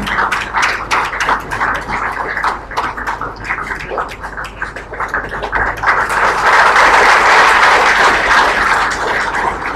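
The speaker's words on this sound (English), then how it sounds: "please join me in giving a warm round of applause to our speaker this evening" A large audience claps after an evening memorial lecture, the broadband clatter steady at first and then swelling fuller and louder toward the end, with no talk over it.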